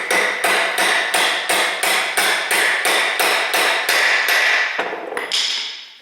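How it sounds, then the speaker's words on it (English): A small brass punch is hammered to seat clutch parts into a new flywheel during a rear-wheel-drive clutch replacement: about fourteen sharp, evenly spaced metallic strikes, close and loud, with a final pair of lighter taps after a brief pause. "we're going to use a little brass punch here"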